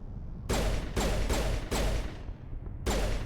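Rapid bursts of gunfire from a weapon in the video game Mass Effect: several loud, sharp volleys in an uneven rhythm, each a dense crackling blast, separated by short gaps.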